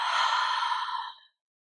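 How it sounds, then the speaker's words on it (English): A single deep exhale through the mouth, the closing release breath of a vinyasa yoga flow, heard as one close, steady breathy rush that fades out after about a second. "we're going to take a deep inhale through the nose. And exhale."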